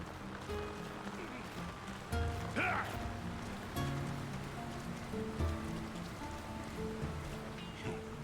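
Steady rain falling over a town in a fantasy video game, a constant hiss with scattered droplet patter and faint background game sounds, no clear speech.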